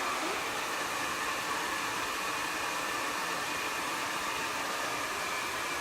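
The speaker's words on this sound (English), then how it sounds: "I'm hitting it with the cooled air." Hair dryer on the cool setting during a blowout, a steady, loud, unbroken rush of air that holds at the same level from start to finish.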